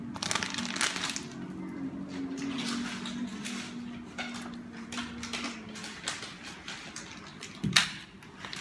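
A mozzarella stick is pressed and rolled in breadcrumbs by hand, producing soft crunchy crumbling and rustling scrapes over a low hum, ending with a sharper thump.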